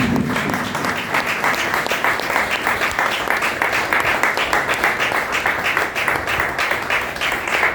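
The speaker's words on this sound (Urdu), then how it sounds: "زوردار تالی کے ساتھ ویلکم کریں" Congregation applauding in a church in Lahore, steady loud clapping from many hands continuing throughout, close and full.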